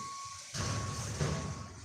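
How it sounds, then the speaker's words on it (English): A garbage truck reverses nearby, its backup beeper sounding as a steady high tone while a deep engine rumble swells in partway through and continues underneath. "That's a garbage truck back there."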